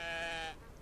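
A sheep in the Western farming game Outlaws of the Old West gives one loud, close, wavering bleat for about half a second, then trails off into quiet ambience.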